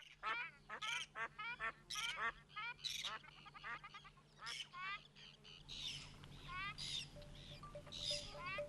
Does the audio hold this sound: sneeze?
no